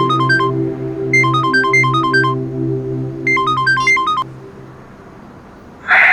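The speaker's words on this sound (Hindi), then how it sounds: "लो, उसी का ही फोन आ गया।" An incoming call ringtone on a mobile phone, bursts of bright melodic electronic chimes over a sustained synth backing, repeating in phrases before cutting off.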